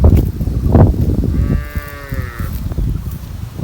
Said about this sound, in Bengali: এই যে গরু দেখেন